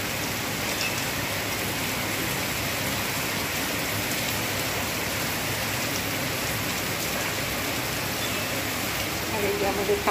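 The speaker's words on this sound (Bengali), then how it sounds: "বৃষ্টি হচ্ছে।" Heavy rain pours down outdoors onto a waterlogged street, a dense, even hiss of falling drops holding steady throughout at a moderate level.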